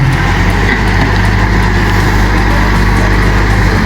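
A vehicle being driven past, with a loud, steady engine drone and a low rumble that holds constant throughout, no speech over it.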